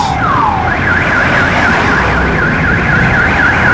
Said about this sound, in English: A lot of car alarms.